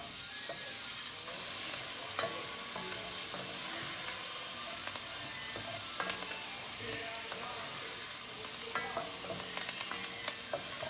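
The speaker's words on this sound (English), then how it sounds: "I want to saute this." Celery, garlic, onion and meat sauté in a pan over a gas flame, a steady close sizzle with scattered clicks and scrapes of stirring, no talking.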